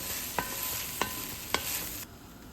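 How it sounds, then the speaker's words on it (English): Onions and minced garlic sauté in a pot with a soft, steady sizzle, broken by three sharp clicks of a utensil against the pot at roughly even intervals before the sizzle drops away. "Add 1 teaspoon of minced garlic. Sauté about a minute."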